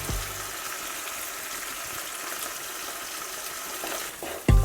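Spices for matar paneer being stirred and fried in a pan, a steady sizzling hiss throughout with a louder scrape or clatter near the end, no talking.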